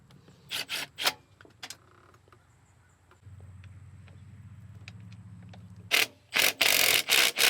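Ratchet wrench driving the 10mm bolts back into a Subaru BRZ fuel rail cover: bursts of sharp clicking early, a steady low grinding through the middle, then loud, rapid ratcheting bursts near the end.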